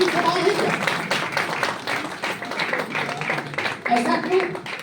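An audience at a ceremony claps in a burst of applause that swells and fades, with a voice speaking over the clapping.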